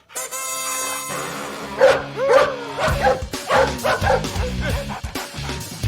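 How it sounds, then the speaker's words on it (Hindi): A dog shut inside a car barks repeatedly in an uneven rhythm, the yapping barks close and prominent over a steady low background hum. "अबे कुत्ते, गाड़ी के अंदर बैठ के भौंक रहा है"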